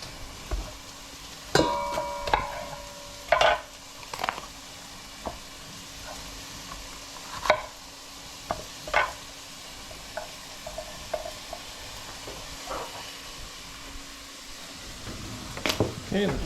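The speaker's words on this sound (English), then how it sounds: "Let's just stir my onions." Onions and peppers sizzling in a pan for Hungarian beef meatball sauce, a soft steady fry broken by scattered clacks and scrapes of stirring, with some talk.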